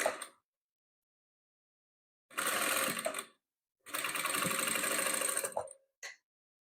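A sewing machine stitching patchwork quilt pieces in a few close, loud whirring runs of about one to two seconds, separated by silent pauses.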